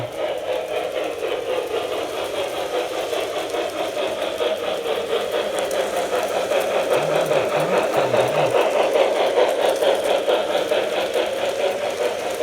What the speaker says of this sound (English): the reason that sound on it's cutting out just a little bit is because my track's just a little bit dirty